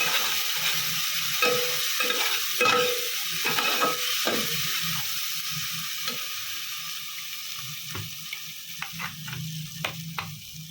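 Spice paste of green chilli, tomato, poppy seed and Kashmiri chilli frying in a pan over a low gas flame, giving a steady close sizzle with scattered stirring scrapes and ticks.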